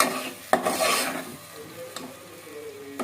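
A spoon stirs spices and lentils into Maharashtrian amti curry in a pot, giving close scraping and rasping strokes with a couple of sharp knocks and no talk.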